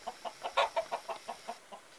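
A rooster and hens cluck on a farmstead in a quick series of short, mid-pitched calls, about ten bursts in two seconds, fairly close and fairly quiet.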